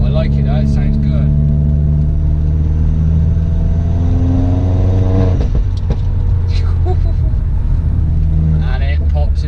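A Vauxhall Astra VXR engine drones loudly and steadily close by, rising briefly partway through, with a few sharp crackles that could be exhaust pops; someone speaks over the engine.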